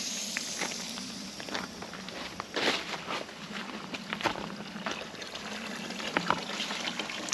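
Water runs from a hose pipe into a drinker bowl, a steady close trickle broken by irregular splashes and little knocks. There is no speech.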